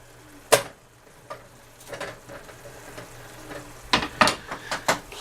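Hamburger meat frying in a pan, a low background sizzle punctuated by several sharp scrapes and clatters of a utensil, bunched toward the end.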